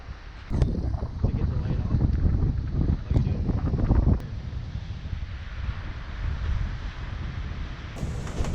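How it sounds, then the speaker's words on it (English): Steady wind rushing past a Lagoon 50 sailing catamaran crossing the Atlantic at about 20 knots, a loud continuous roar with microphone buffeting and hull and water noise, occasional gusts swelling and easing. "We have 20 knots of wind, we're doing 7 to 8 knots, and it's a sunny day."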